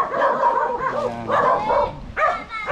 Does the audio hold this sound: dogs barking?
yes